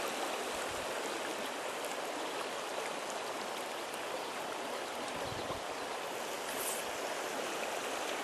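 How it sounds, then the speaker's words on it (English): A river's currents rush and merge in a steady, loud broadband wash, with constant water noise filling the whole stretch, heard from midstream while fly fishing for bass. "Beautiful currents coming together here."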